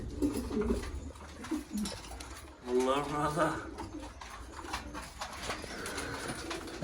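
Wild pigeons and their chicks coo in low, repeated rolling calls close by, with someone talking over much of it and a clearer burst of cooing in the middle.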